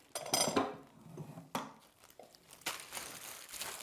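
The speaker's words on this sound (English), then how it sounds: "in the plastic bag and then start crushing" Biscuits crushed inside a plastic bag with a rolling pin: irregular bursts of crinkling plastic and crunching crumbs, close and fairly loud, with short pauses between strokes.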